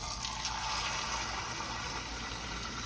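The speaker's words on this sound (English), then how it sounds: "So, I'm gonna put a little water in here, y'all." Water pours into a pan being readied for oven-baked BBQ ribs, a soft, steady splashing wash with a low rumble beneath, continuous and close with no talking.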